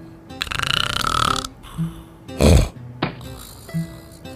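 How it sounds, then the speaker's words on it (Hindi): A man snores loudly and comically in a Hindi TV ad, with several exaggerated, varied snorts and rumbling breaths separated by short gaps, close and alone without talk. "आपको सिर्फ दो तरह के खर्राटे पता होंगे,"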